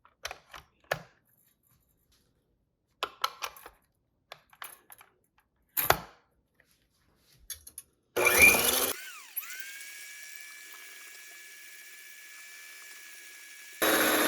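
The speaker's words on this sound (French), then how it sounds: "Fouettez à l'aide d'un batteur électrique les blancs d'œufs en ajoutant une tasse de sucre par petite quantité." An electric hand mixer whips egg whites with sugar. After scattered clicks and clatter, the motor starts with a loud burst and settles into a steady, humming whine for several seconds before surging again.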